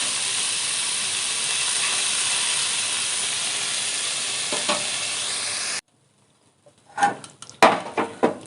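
Lote fish (Bombay duck) sizzles as it fries in hot oil, a steady close hiss for several seconds that cuts off abruptly, followed by a few scattered clinks and clatters.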